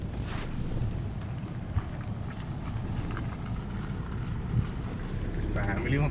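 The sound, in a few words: rain and wind outdoors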